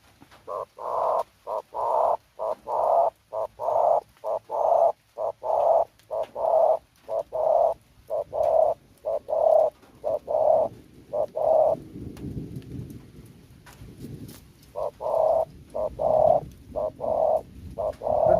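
Dove cooing in a steady repeated rhythm, calls close together and fairly loud, with a brief pause before the cooing resumes; low rumbling noise in the middle.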